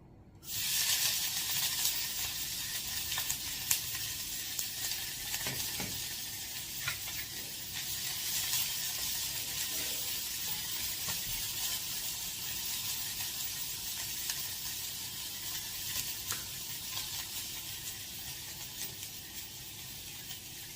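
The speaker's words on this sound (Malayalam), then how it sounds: "കടുക് പൊട്ടാൻ തുടങ്ങി." Hot oil sizzles continuously with a steady hiss as mustard seeds pop, scattered small pops and crackles breaking through, close up and with no talking.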